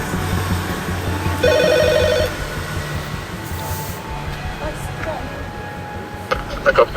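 A doorbell or intercom at a building entrance sounds a short electronic buzzing ring lasting under a second, clear over street ambience, with voices speaking around it.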